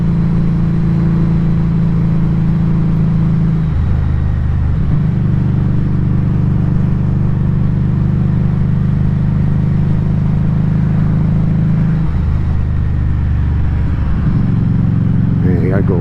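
Street 500 motorcycle engine running steadily in fifth gear at about 3,300 RPM near 45 mph, a loud continuous mid-pitched drone with brief dips in load, alone without talk.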